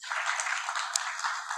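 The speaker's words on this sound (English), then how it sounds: "Let's give applause for Miss Ari" An audience at a rural digital transformation conference applauds briefly, a soft, even patter of many hands clapping at a distance.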